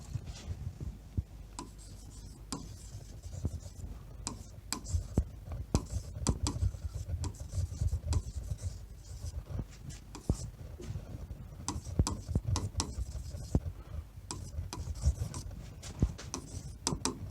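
Chalk or marker scratches and taps against a board in scattered, irregular strokes while writing out notes on alternating current, faint and close throughout.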